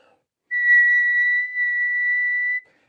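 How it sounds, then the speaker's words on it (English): A shaman whistles with the mouth to call masculine spirits: a single sustained, pure high tone lasting about two seconds, close and clear against silence. "I use my whistle, which is just with my mouth"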